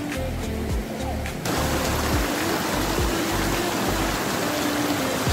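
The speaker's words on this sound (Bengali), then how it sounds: "সামনে একটি ছোট ঝর্ণা আছে।" Rushing water flows loudly and continuously, a broad steady roar of a small mountain stream tumbling over rocks in a birch forest on the Panchachuli base camp trek, Darma valley, with no talking.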